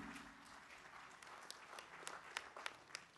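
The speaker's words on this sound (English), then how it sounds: "A round of applause, ladies and gentlemen." Guests at the 2014 Sri Lanka Engineering Excellence Awards applaud as an honoree is invited up, faint, distant clapping that starts thin and builds, with a handful of louder individual claps near the end.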